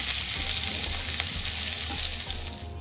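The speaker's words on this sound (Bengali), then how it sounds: "দিয়ে নেড়েচেড়ে ভেজে দিয়ে দেব পেঁয়াজ কুচি। পেঁয়াজটাকে হালকা ভেজে নেব।" Chopped onions frying in ghee with bay leaf, cinnamon and cardamom, a steady loud sizzle with a few soft stirring scrapes, close up and without voices.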